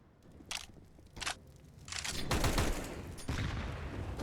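Pistol fire in a Counter-Strike match on the Vertigo map, several sharp shots at about 0.5 and 1.2 seconds followed by a denser, sustained burst of gunfire and noisy action.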